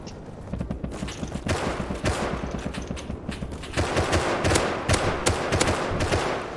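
Rapid automatic gunfire rattles in the video game Rust, dense bursts of shots that keep coming and get louder partway through.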